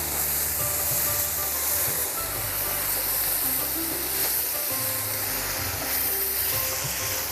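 Ridge gourd sautéing in oil for a chutney gives a steady, close sizzle and crackle that runs unbroken throughout, with a low rumbling hum underneath and no voices.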